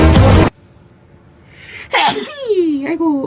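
A sneeze from one of the members of the K-pop group BTS, a sharp burst followed by voiced talk and exclamations right after it, close and fairly loud.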